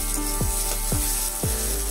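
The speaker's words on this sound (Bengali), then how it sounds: "আলুগুলো ভেজে নিচ্ছি।" Potatoes frying in a pan for fried rice give a steady, close sizzle, broken by a few short scraping sweeps from stirring.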